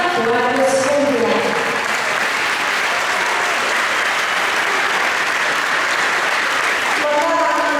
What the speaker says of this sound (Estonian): teeme suure aplausi palun Tallinna toetusfondile